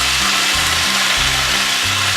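Pot roast browns in a hot pan, giving off a loud, dense, continuous sizzle and crackle that fills the whole moment without pause.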